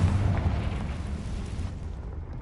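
A Confringo fire spell blast in the Hogwarts Legacy video game, a loud, rumbling explosion at the start that rolls off and fades over a couple of seconds.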